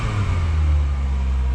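A Citroën ZX Volcane engine ticks over at idle, a steady low rumbling hum heard close and alone for a brief moment.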